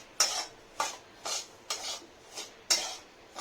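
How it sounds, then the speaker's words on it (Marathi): Dry semolina being roasted in a little oil in a pan over medium heat for upma, stirred with a spoon in a steady rhythm of about six scraping, rasping strokes, close and clear with no talking. "हलवत राहायचंय, जळून नाही द्यायचा रवा. त्याला खरपूस भाजून घ्यायचा आहे."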